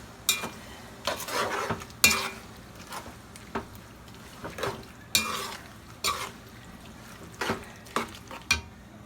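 Fried rice ingredients seasoned with parsley flakes are stirred together in a pan, bursts of scraping and clattering utensil strokes against metal over a low sizzle, repeating in irregular waves.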